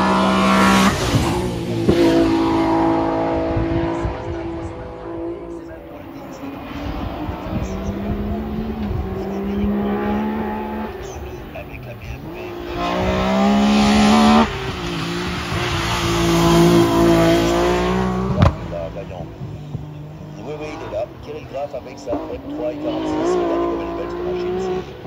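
BMW car engine revving loudly and continuously, with throaty acceleration swells and a brief tire squeal, along with talk throughout.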